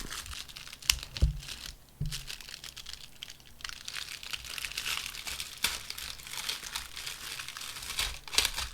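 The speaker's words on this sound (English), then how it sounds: "This looks like a heat seal. I think you just rip it." Heat-sealed plastic wrap being ripped off a magazine during an unboxing: close, quiet crinkling and a few sharp tearing crackles come in irregular bursts, with no talk.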